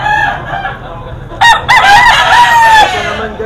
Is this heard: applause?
no